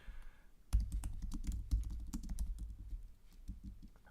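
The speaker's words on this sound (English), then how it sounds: "why am I typing in all caps like a crazy person?" Rapid typing on a computer keyboard, a dense run of close, quiet key clicks with a couple of heavier strokes, alone without talk.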